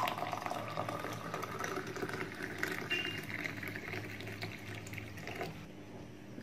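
Boiling water poured over ground cumin fills a container with a soft, steady watery rush and gurgle, faint and continuous throughout, with no talking.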